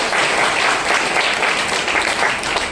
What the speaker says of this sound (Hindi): ताली बजाइए जोरदार वाली।